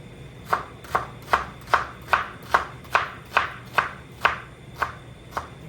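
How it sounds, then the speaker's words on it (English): A new kitchen knife chops onion on a board in about a dozen even, crisp strokes at a steady pace, close and clear with no voices. "So we are going to cut up a little onions in there."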